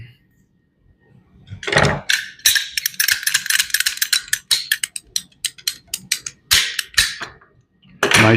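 Cutting a number 8 Pure Stealth reduced barrier AC hose wrapped with a short section of masking tape: a close run of harsh, gritty crunching and rasping strokes in quick bursts, with brief pauses between.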